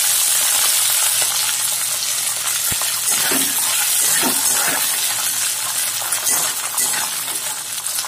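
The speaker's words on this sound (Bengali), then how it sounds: "আমি এখন তেলে একটু মটরগুলো ফ্রাই করে নেব" Fresh green peas fry in hot oil in a pan, a dense, loud sizzle that runs continuously with faint scraping and stirring clinks, no voices.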